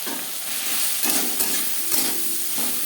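Beans, eggplant and greens frying in a pan without garlic or onion, stirred continuously with a steady sizzle and occasional scraping strokes from the utensil, close and fairly loud.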